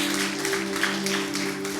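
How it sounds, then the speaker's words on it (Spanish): A church congregation clapping during a Spanish-language service, a dense, steady wash of applause under a constant low electrical hum, with no speech. "déle ese aplauso al Señor"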